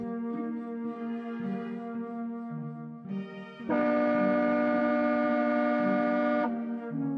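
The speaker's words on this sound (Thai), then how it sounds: "เสียงเหมือนบูดรถไฟเลย" A deep, sustained horn resembling a train horn in the video game Tales of the Black Forest swells loud and holds for several seconds midway, layered over a steady harmonic drone before easing off.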